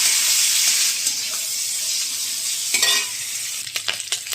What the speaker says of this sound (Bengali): দিয়ে চিংড়ি মাছটাকে ভেজে নেব